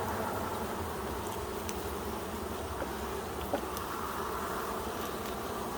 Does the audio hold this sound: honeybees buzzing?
yes